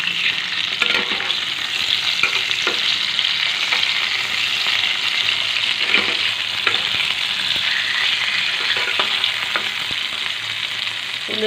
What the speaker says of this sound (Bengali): মাছটাকে ভেজে তুলে নিয়েছি।